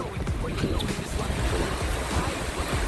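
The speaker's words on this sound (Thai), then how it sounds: "น้ำไหลแรงมาก" Swollen river rushing hard during heavy storm rain in Pai, Thailand, a loud continuous roar of churning water mixed with rain and wind buffeting close to the microphone.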